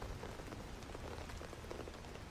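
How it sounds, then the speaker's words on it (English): Light, steady rain falls in the STALKER GAMMA video game, a mild downpour with dense, even patter of drops across the whole stretch and no voices. "It's like a light downpour in England. Mild rain."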